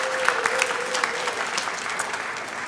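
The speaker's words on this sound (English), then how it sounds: "Let's give them another round of applause." An audience at an anniversary celebration claps in sustained applause, a dense continuous patter of many hands with a few sharper individual claps standing out.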